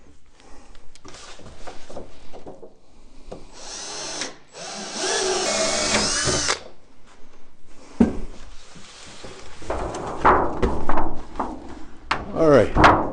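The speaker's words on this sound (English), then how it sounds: "I'll go ahead and drill the other 4 holes on this side" A power drill bores holes into the wooden body of a Layens beehive, with several whining bursts of drilling separated by pauses, wood clunks and handling noises, and a voice speaking in between.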